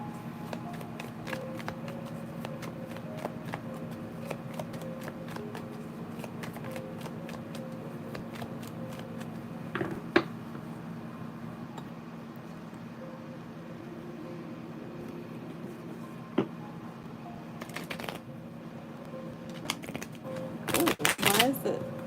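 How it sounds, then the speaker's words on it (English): A deck of tarot cards is shuffled close up in a series of soft riffling and tapping bursts, ending in a louder flurry, while someone talks throughout. "I haven't shuffled this deck in a minute."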